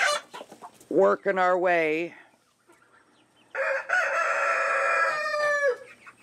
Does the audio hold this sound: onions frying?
no